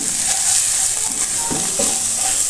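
Onion, garlic and ground turmeric, chilli, cumin and coriander sautéing in a pan for a Bengali egg dal, with a steady soft sizzle and a few close stirring scrapes, no talk.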